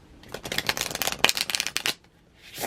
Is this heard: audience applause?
no